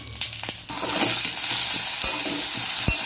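Dal and paneer being reheated on a tawa over a stove: a steady close sizzle with brief stirring scrapes and a couple of sharp clinks, no voices.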